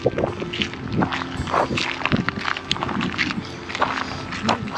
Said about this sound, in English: Pretty windy out here tonight